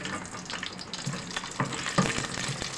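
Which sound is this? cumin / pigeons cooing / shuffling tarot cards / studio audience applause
cumin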